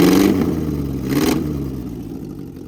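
Ford 100e car fitted with a 2.0 Zetec engine fires up with two sharp revving bursts, then settles into a loud, slightly clattery idle that gradually eases off, close by with no talking.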